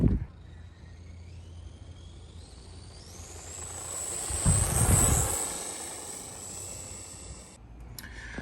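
A Furitek Rampart 1/24 scale RC monster truck's small electric motor whines steadily, its pitch sweeping upward as it accelerates to a sustained high tone with a louder burst of rumble midway, then cutting off near the end.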